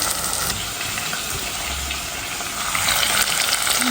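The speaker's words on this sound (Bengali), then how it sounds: "পেঁয়াজগুলো ভেজে নিলাম" Onions frying in oil in a pan while an onion-based curry for hilsa fish is being made; a steady, close, continuous sizzle with a soft crackle that swells slightly toward the end, with no voices.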